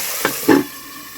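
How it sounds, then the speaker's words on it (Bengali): Fried potatoes dropped into a hot pan, with two quick close splashes followed by a fading sizzling hiss. "ভেজে রাখা আলু দিয়ে দিলাম।"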